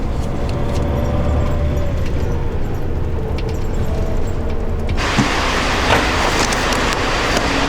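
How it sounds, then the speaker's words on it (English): Full-size bus interior on the move: a steady loud rumble and road roar fill the cabin, swelling into a brighter hiss partway through, with faint rattles and no talk. "I was actually expecting it to be a minibus, but it's actually a full-on bus."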